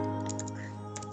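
A few quick keystrokes on a computer keyboard while code is entered, light taps over a steady low hum in a quiet room.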